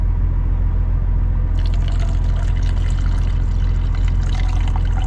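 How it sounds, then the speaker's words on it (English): Hot water poured from a small plug-in kettle with a tiny spout into a cup of instant coffee and creamer inside a truck cab, a steady splashing trickle over a constant low engine or cab hum. "it's kind of hard to pour it without making a mess"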